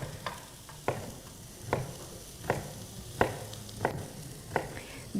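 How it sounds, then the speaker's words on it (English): Red bell pepper sautéing in extra virgin cold-pressed olive oil, a soft background sizzle broken by regular utensil taps and stirs roughly every second, close and quiet, with no talking. "Extra virgin cold pressed olive oil is what I'm using to saute this in"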